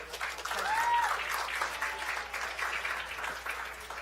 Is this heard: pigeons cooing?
no